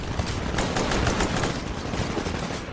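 Enemy shotgun fire in the Titanfall campaign, a dense, loud run of overlapping shots and bursts under continuous battle noise, with no talk.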